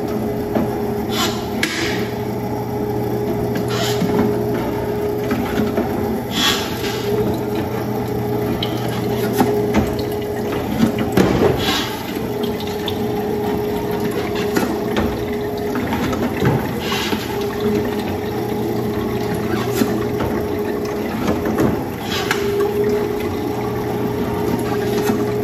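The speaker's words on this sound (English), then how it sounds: "So now we have loaded our oranges, our juicer's on, we have our pitcher" Electric juicer running steadily as it presses five oranges, a continuous motor hum with liquid trickling and occasional thumps and clunks of fruit being squeezed, fairly loud and uninterrupted with no talking.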